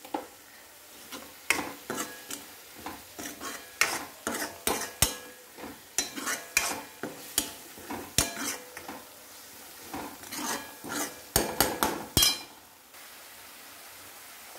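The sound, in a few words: tomatoes sautéing in a pan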